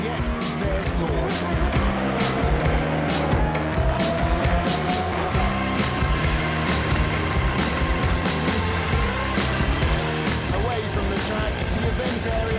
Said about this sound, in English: thrilling races and spectacular on-track action provided by some of the world's best drivers and some of the world's finest supercars